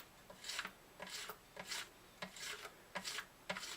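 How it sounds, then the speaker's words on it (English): Sandpaper rubs across the wood of a Gibson J40 acoustic guitar during a top crack repair, making soft rhythmic rasping strokes, about six back-and-forth passes, close and fairly quiet. "I'm going to go to sandpaper to"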